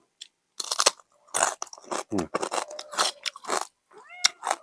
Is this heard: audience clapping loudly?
no